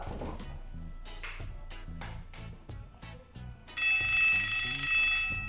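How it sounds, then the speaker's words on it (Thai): Classroom timer app sounds a bell alert as time runs out, a loud, sustained bright ringing that starts abruptly after several seconds of quieter rhythmic background music and continues to the end. "อ่ามีเสียงแจ้งเตือนนะครับ เป็นเสียงกระดิ่งค่อนข้างชัดเจนเลยนะ"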